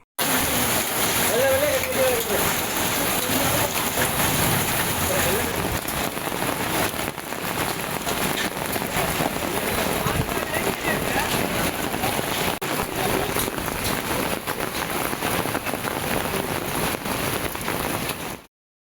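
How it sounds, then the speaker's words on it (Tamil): Hail and heavy rain pelt house roofs in villages around Tittakudi in Cuddalore district, Tamil Nadu, a dense, loud, unbroken clatter and hiss that continues throughout. "லேசாக தொடங்கிய மழை பின்னர் ஆலங்கட்டி மழையாக மாறியதால் வீடுகளின் மேற்கூரைகளில் பட்டாசு வெடிப்பது போன்ற"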